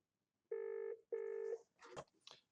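Two electronic ring tones from Communicator softphone software signal an inbound call, each a steady half-second buzz with a short gap between, followed by a few faint clicks and rustles.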